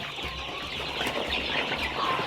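Improved local chickens cluck in a poultry house on a farm in Uganda, with several birds making close, steady clucking calls and a few brief wing flaps throughout.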